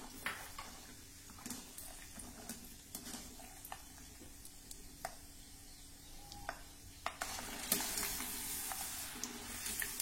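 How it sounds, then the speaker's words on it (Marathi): Peanuts fry in hot oil in a pan for a chivda fasting snack, giving a steady, close sizzle with occasional stirring clicks and scrapes throughout and no talking. "त्यामध्ये सर्वप्रथम शेंगदाणे तळून घेऊ।"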